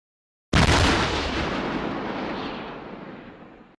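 A single heavy cannon blast in a music recording bursts in abruptly and loud, then rolls off in a long decaying boom with no voices.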